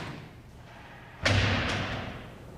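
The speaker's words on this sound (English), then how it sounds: "The impactor is ready to go, the cameras are set, and now Jamie's just about to fire." A single heavy thud as an impactor strikes motorcycle protective armour during a drop-style impact test, a sharp loud hit followed by a brief fading resonance after quiet background.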